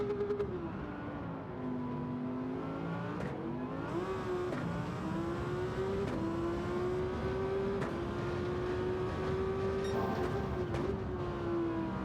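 Video game race car boosting with nitrous, a continuous loud engine drone with rising and falling pitch as it revs and shifts, sustained throughout.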